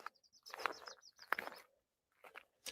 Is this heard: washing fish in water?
no